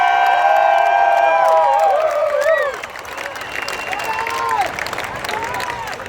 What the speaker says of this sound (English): The 21st Airlift Squadron out of Travis Air Force Base. Give them a round of applause.